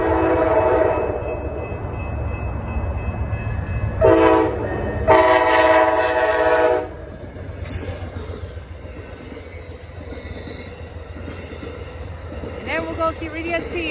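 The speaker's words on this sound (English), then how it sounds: "We have Amtrak 56 coming, and we have 145 in the lead. Phase 3 Heritage." Amtrak 56 passenger train led by a Phase 3 Heritage locomotive passing at speed, with loud horn blasts over a rushing, rumbling roar that fades into continuing wheel noise.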